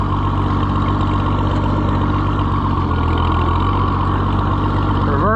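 An Oliver 77 tractor engine runs steadily in reverse gear, a loud, continuous low rumble with a constant idle-like drone and no break throughout.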